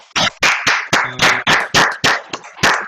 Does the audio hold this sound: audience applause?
yes